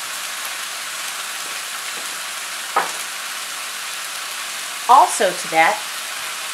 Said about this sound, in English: I use the minced garlic and the onion. Make sure your heat isn't too high because you don't want that to burn.